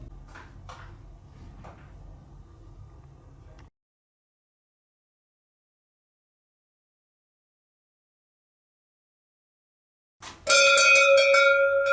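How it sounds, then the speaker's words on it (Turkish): A metal camel bell being rung near the end, a sudden loud clanging with bright ringing overtones, following a stretch of low handling noise and several seconds of silence. "Deve çanı derler buna."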